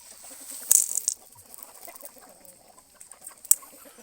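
Chickens at a morning corn feeding, about sixty fighting cocks and hens of mixed ages, make soft scattered clucks and chatter, with two sharp louder calls standing out close by.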